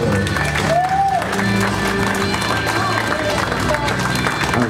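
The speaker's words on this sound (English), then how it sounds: "let's give a nice round of applause for the bride and her father." Guests at a wedding reception applaud the bride and her father with steady, dense clapping and some cheering from the crowd. Talk carries over the clapping.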